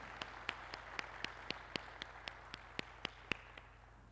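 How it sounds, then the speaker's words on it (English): Sparse, steady hand claps ring out at a forum gathering, a slow rhythmic beat of roughly a dozen distinct claps over a faint background hum, moderately distant and fading toward the end. "So I just want to take a moment and a round of applause for all of you taking the time to be."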